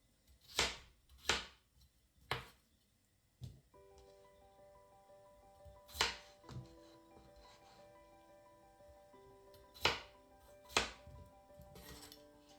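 Carrots being chopped on a board with a knife for duck cabbage soup, several sharp separate cuts spaced irregularly, close and fairly quiet, with a faint tonal hum underneath during the second half.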